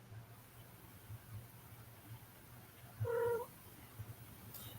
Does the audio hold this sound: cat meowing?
yes